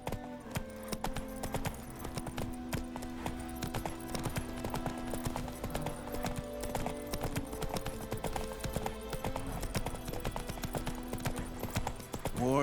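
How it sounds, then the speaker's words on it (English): In The Witcher 3, the horse Roach gallops with a fast, steady drumming of hooves, continuous and moderately loud throughout. "Run, Roach"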